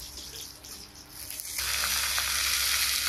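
Water spinach tipped into hot oil with garlic fried crisp, a quiet background of faint frying that jumps midway to a loud, sustained broad sizzle, close and without speech.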